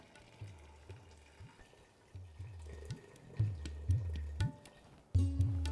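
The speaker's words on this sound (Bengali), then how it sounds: "এবার মাটনটাকে সেদ্ধ করার জন্য আমি এখানে দিয়ে দেবো পরিমাণ মতো জল।" Hot water poured over mutton in a pressure cooker while making Bengali-style mutton curry, heard as an uneven run of low splashing and gurgling pulses that grows louder toward the end.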